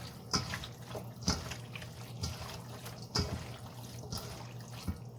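Hands squish and toss a spicy St. Lucia-style mango salad dressed with salt and vinegar, making soft wet squelches and slaps in an irregular rhythm, close and fairly quiet.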